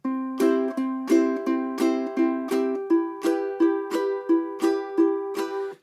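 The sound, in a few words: ukulele picking string 3 with down strums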